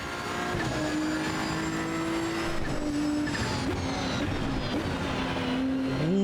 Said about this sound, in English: Ooh, that downshift noise is very cool.